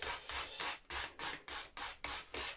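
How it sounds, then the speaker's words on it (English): An Orville by Gibson guitar headstock finish being wet sanded with soapy water. About nine even back-and-forth rubbing strokes rasp close up in a steady rhythm, with no voices. "I really shouldn't be wet sanding it, but a little bit of lubrication doesn't hurt."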